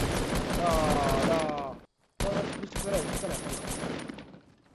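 Rapid automatic gunfire in Fortnite, with a loud, continuous rattling burst, a brief silent gap, then more firing that trails off, while a voice speaks in the background.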